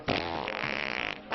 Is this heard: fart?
yes